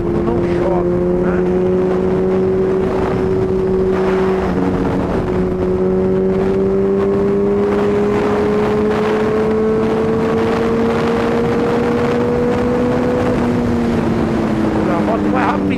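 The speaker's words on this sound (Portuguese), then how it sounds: "A moto vai rapidinho, 240. Não precisa nem pestanejar, é só acelerar." Suzuki B-King motorcycle in orange metallic, ridden at speed on a road toward a toll plaza, its engine holding a steady, loud drone that climbs slowly in pitch as it accelerates, with wind rush over it for the whole stretch.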